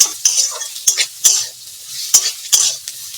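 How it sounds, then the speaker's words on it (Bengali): Spiny gourd (kakrol) sizzles softly in a frying pan while a spatula scrapes and knocks against the pan in several sharp, irregular strokes, close up with no talk. "এদিকে কাঁকড় ভাজা অনেকটাই হয়ে এসছে,"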